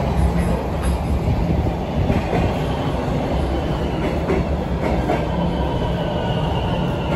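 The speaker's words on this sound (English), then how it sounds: "Here's my train." A loud, automatically driven Toronto TTC subway train rumbles and clatters slowly into a station, with a continuous roar of wheels on rails and no talking.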